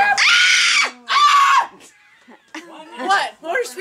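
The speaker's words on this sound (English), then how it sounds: "What are you screaming about?" A person screams loudly twice at close range in a home during a Thanksgiving gathering, followed by faint laughter and chatter.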